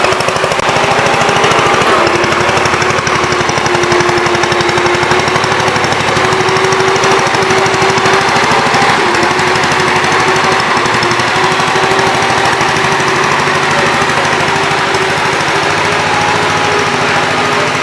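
An 89-year-old Gravely tractor engine runs steadily and loudly up close, a continuous rough, knocking drone with a faint whine on top that holds without pause.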